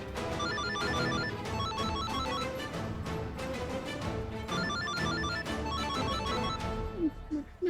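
A mobile phone ringing in a Madam Sir TV episode scene, its repeating electronic ringtone pattern running steadily through the whole stretch over a busy background bed.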